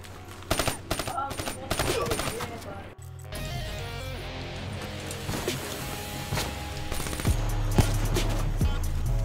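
Black Ops 3 gunfire crackles in rapid bursts and single sharp shots, some close and loud, scattered over about nine seconds while players talk throughout.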